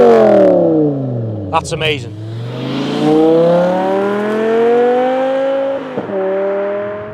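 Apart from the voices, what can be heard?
BMW M5 E61 Touring V10 engine revving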